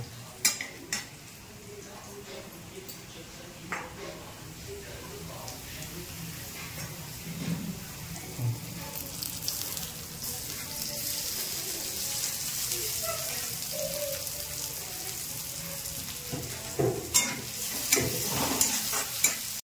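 Poha with peanuts, coriander and tomato frying in a pan, stirred with a utensil that clinks and scrapes against the metal over a soft steady sizzle, with occasional louder knocks and no talk.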